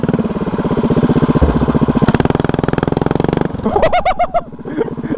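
A vertical-shaft small carburetted engine, mounted horizontally on a transaxle machine, runs loud and close with a steady, rough mechanical drone that shifts pitch midway and briefly surges near the end.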